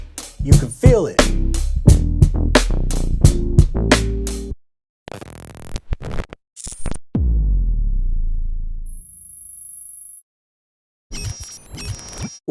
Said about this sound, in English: What you heard was Addictive drums, and they're my own presets in Addictive drums.